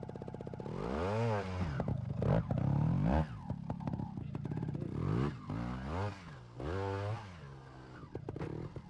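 A trial motorcycle revs hard again and again in short, rising bursts of throttle as the clutch is dumped, each rev climbing and falling, with clattering pauses between the bursts, close and loud.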